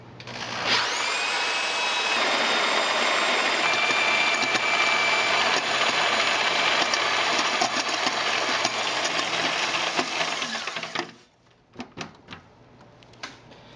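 A grain mill grinds Maris Otter malt for brewing, a loud continuous whirring drone that runs steadily for about eleven seconds, then stops abruptly, leaving a few scattered clicks and knocks.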